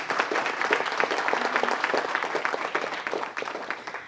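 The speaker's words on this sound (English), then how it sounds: "let's give him a round of applause" Applause from the audience at a Gardena city council meeting, moderately loud and fairly dense, continuous clapping over the whole few seconds with a slight dip near the end.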